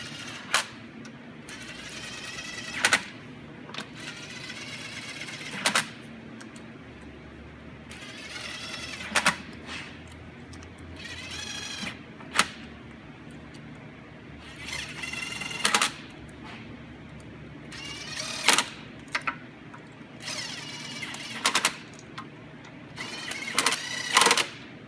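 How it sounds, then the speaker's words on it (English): Bolts on a Cadillac intake manifold being run down snug by hand with a wrench, giving repeated quick clicking and ratcheting bursts at close range with short pauses between runs. "I like to go ahead and run my bolts all the way down, just snug, not to where they're tight"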